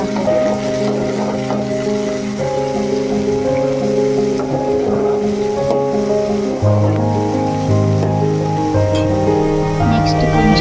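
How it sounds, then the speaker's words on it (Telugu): Onions sizzle steadily in a pan while being stirred, with a loud, close frying hiss and occasional scraping movements throughout. "ఆనియన్స్ వేసుకున్నాక కాసేపు ఫ్రై చేసుకుంటూ ఉండాలి"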